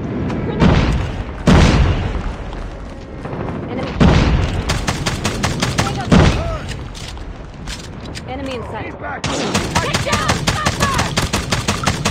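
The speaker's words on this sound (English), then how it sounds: "Friendly airstrike incoming." Friendly airstrike in a Call of Duty online match: a string of heavy booming explosions, some close and loud, overlapping with rapid automatic gunfire and in-game chatter.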